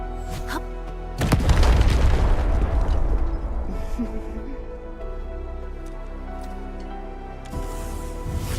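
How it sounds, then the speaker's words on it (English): A big in-game explosion in Arknights: Endfield: a sudden loud boom with a heavy low rumble that rolls on for a couple of seconds, then fades into the game's ambient bed, with a smaller burst near the end. "I give that explosion a 10 out of 10."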